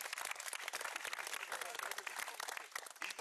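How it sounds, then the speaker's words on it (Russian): Dense applause from a youth forum audience, steady and fairly loud throughout, with many hands clapping at once. "Ваши аплодисменты"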